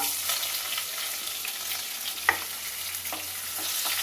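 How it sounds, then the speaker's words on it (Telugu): Onions sizzling and frying in oil in a pan for a Telugu bottle gourd curry, a steady close crackling hiss with a brief sharp clink of a utensil partway through; no one speaks. "ఇప్పుడు ఉల్లిగడ్డలు వేసుకుంటున్నాను."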